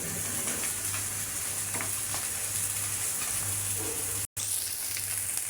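Pabda fish fries in oil with a steady, fairly loud hiss and crackle, a faint low hum underneath and one abrupt brief dropout near the end.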